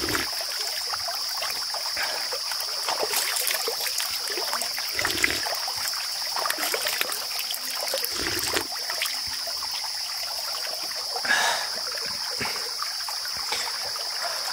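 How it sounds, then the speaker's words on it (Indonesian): A small forest stream in a Sumatran rainforest trickles and burbles softly and continuously, with a steady insect hum above it and occasional light splashes. "Ada sungai kecil di bawah. Air. Kita menemukan air kecil."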